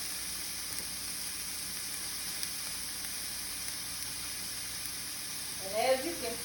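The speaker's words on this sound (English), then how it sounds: "Saute those. Got a lot of onions. Put those in there." Onions sautéing in a dry pan with no oil give a steady, soft sizzle and hiss throughout, with a brief louder crackle near the end as more goes into the pan.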